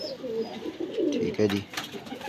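Cross-bred Teddy pigeons with fresh new feathers coo in soft, throaty bursts close by, while someone talks over them and other birds add faint chirps in the background.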